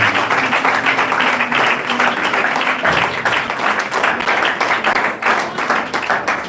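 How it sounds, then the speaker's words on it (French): A church congregation applauds loudly in acclamation of Jesus, dense continuous clapping filling the space with a brief low tone fading early on. "louange, l'acclamation au Seigneur Jésus"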